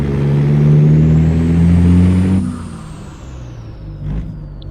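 Truck engine in American Truck Simulator, a loud, close diesel note rising in pitch as it revs, then dropping to a lower idle rumble with a short burst of noise near the end.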